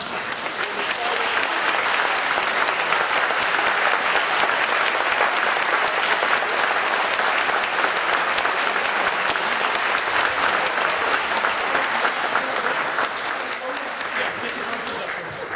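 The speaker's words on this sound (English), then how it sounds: "Okay, a nice round of applause" Sustained audience applause fills a hall of fame induction ceremony, a dense, steady wash of many hands clapping that holds evenly for about fifteen seconds before easing slightly at the end.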